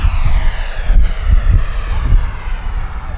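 An Arrows RC Marlin (Avanti) model airplane flies overhead under a blue sky, its engine giving a steady loud whine and drone throughout, with no talk.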